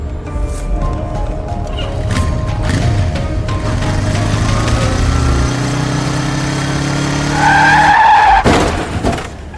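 A motorcycle ridden without a helmet crashes: a loud, steady engine drone and skidding tires build for several seconds, then end in a sharp, bright clatter of impact near the close.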